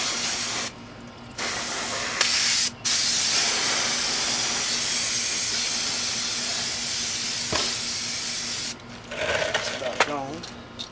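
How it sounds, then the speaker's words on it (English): Brake cleaner sprays onto the wheel hub of a 2001 Chevy Cavalier in a few long, loud hissing bursts, with brief pauses between them and a spitting tail-off at the end. "Get a little brake cleaning. Clean that off a little bit."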